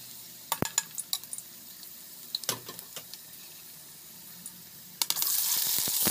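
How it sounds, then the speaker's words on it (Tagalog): Onion and garlic are sautéed in a pan for ginamay, with a quiet background sizzle, a series of sharp metallic clinks and scrapes from stirring, and a louder burst of sizzling at the end. "Igigisa lang natin."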